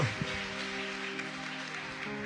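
A church congregation at an anniversary service applauds in a continuous soft wash of clapping, with sustained organ or keyboard tones ringing underneath throughout.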